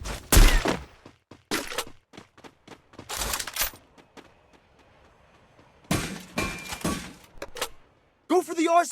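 Gunfire in the PUBG battle royale video game, with sharp broadband shots in scattered bursts separated by gaps, plus a closing burst of other game sounds.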